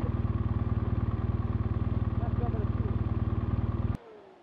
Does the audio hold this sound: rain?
no